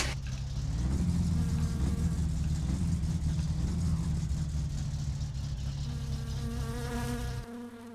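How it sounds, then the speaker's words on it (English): A car engine running lean after starting in My Summer Car: a steady, buzzing idle hums close and continuous for several seconds, then drops in pitch and loudness near the end, with no talking. "The car starts"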